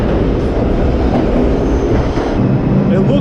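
A New York subway train approaches the platform with a loud, close rolling rumble and rattling, steady throughout and swelling slightly toward the end; someone talks over the noise.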